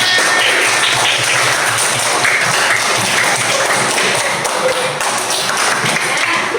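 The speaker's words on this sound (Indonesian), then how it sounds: "Beri tepuk tangan." Students in a classroom applaud two classmates with a loud, continuous wash of dense clapping that holds steady throughout.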